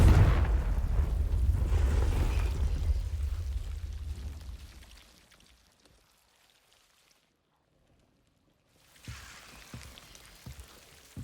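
Confringo spell explosions in the video game Hogwarts Legacy: a loud rumbling blast that fades out over several seconds into near silence, followed by scattered crackling hits and small bursts.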